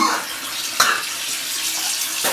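Tap water runs in a steady, fairly loud broadband rush for about two seconds, with a brief splash or knock partway through and no talking.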